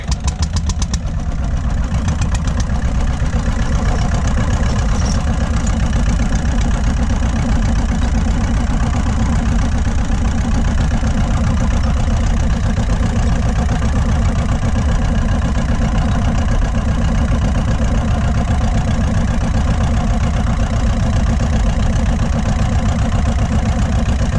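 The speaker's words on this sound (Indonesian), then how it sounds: "Memutar mesin kompresor, dan lagi-lagi ia gunakan alat selamnya." A diving air compressor engine runs steadily throughout, a continuous loud mechanical drone with a dense low rumble and no pauses.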